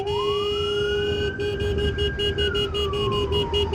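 Close, loud ambulance siren on the road wailing with a long rising and falling tone, overlaid with a fast rhythmic pulsing yelp.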